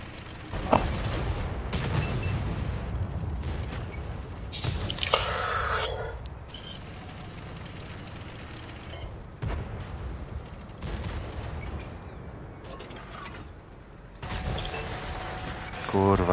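Tank cannon blasts in World of Tanks, with an Object 704: loud booming bursts amid rumbling engine noise and metallic clanks, with a few sharp shots spaced across the scene.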